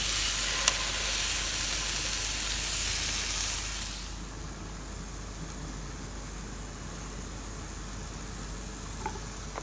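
Beef steak pieces hitting a preheated pan, giving a loud, close, broad sizzle that fills the first few seconds and then drops to a softer, steady frying hiss.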